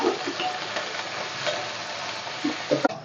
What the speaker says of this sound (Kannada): ನೋಡಿ, ಈರುಳ್ಳಿ ಚೆನ್ನಾಗಿ ಫ್ರೈ ಆಗುತ್ತೆ.